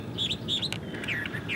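Nest-building birds in Botswana give several short, high chirps and tweets, close and fairly quiet, over a steady low background hiss.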